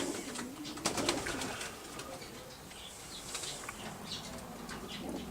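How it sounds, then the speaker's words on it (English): Racing pigeons in a one-loft race loft cooing softly, low murmuring calls from several birds mixed with a brief flutter of wings and faint chirps against a hushed indoor background. "These are the one loft pigeons,"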